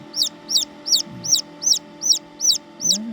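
A Serama bantam, the world's smallest chicken breed, gives eight short, high, evenly spaced clucking calls in a steady rhythm, close by and clear over a quiet background.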